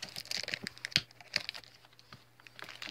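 Scissors poke a hole in the plastic wrapping of a Pokemon card pack, giving quiet, quick crinkling clicks and taps close by, with no voices.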